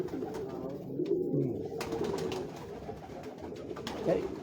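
Pigeons cooing on a rooftop in Lahore, a soft, low burbling coo close by over a steady outdoor background, alone without talk.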